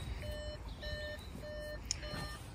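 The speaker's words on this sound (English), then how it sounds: "So, apologies for the beeps, the ignition's on" An Audi SQ5 with the ignition on sounds its warning chime, a series of evenly spaced electronic beeps heard inside the cabin over a low background hum.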